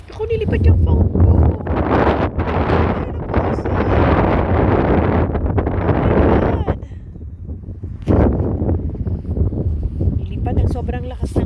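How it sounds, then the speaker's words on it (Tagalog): Strong wind roars and buffets the microphone in heavy gusts, with a brief lull before it surges again. "Sobrang lakas ng hangin, grabe."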